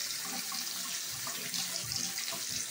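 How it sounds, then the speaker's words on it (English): Warm water pours from a bathroom tap into the sink, a steady close splashing stream with faint gurgles and no talk. "That's warm water."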